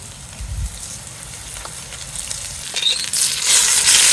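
Lamb searing in olive oil in a Dutch oven over a campfire on a wet December outing, a steady close crackling sizzle that swells louder and brighter toward the end.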